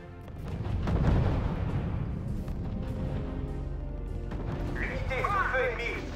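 Heavy rumbling artillery and bursts of gunfire from the strategy video game R.U.S.E. fill the scene with a dense, booming battle din, while voices speak over the noise.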